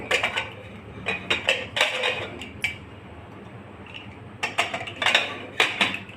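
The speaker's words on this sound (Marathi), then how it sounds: "मी आता झाकण लावत आहे" Metal clinks and clatters of a lid settling onto a steel pot of rice, several sharp knocks in quick bursts, close and fairly loud with no talking.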